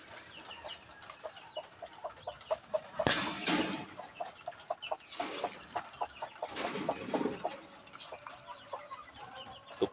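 A hen that laid the eggs clucks repeatedly nearby, with short cackling bursts and louder squawks, other fowl faintly chattering in the background.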